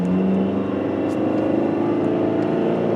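2014 Dodge Journey SE with the 2.4L four-cylinder and four-speed automatic accelerating, a steady droning engine hum heard from inside the cabin, with the pitch rising gradually and no talk.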